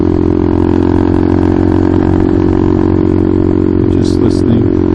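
A 2023 Honda Grom motorcycle fitted with a Tyga High Mount exhaust, heard while riding as a loud, steady engine drone with wind rush, and a voice talking over it.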